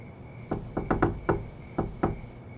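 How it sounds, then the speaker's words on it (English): Someone knocks on a door in a loose series of about seven dull raps, moderately close, with no talking. "Oh man, someone's at my door."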